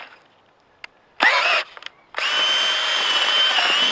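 A power drill with an auger bit whirs in two short bursts, then runs steadily and loudly into dirt, with a few clicks and bumps in between, close by.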